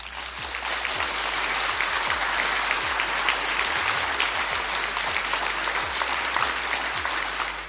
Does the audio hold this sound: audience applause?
yes